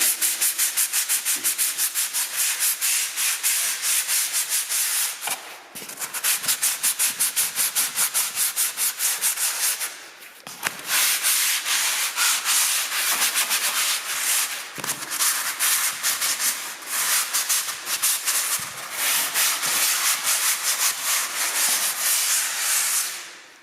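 Hand sanding of a plasterboard drywall wall, continuous close abrasive scratching in rapid back-and-forth strokes with a few brief pauses, loud and steady without speech.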